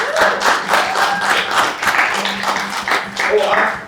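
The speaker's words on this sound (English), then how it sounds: "All right, give a round of applause for Donna Ibalik." A crowd applauds with distinct clapping, fairly close, while voices talk and call out over the clapping throughout.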